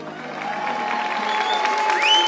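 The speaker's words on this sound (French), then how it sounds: "vous pouvez vous applaudir" A crowd applauds participants of the 4L Trophy rally, with continuous clapping under a faint whistle-like tone and a rising tonal sweep near the end.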